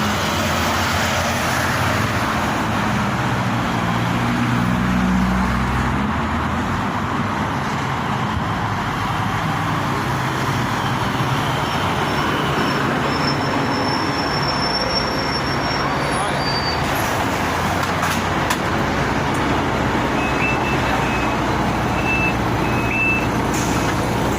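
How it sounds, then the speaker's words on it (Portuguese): A city bus draws near through busy traffic, its engine rumble mixing with steady roadway noise and intermittent reversing beeps, heard continuously over about twenty seconds. "O ônibus está se aproximando, vou embarcar nele agora."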